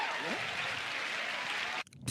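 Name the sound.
applause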